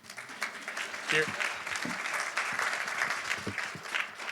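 Audience applause at an aging symposium, a moderate, steady round of clapping from a room of listeners, with voices talking over it now and then.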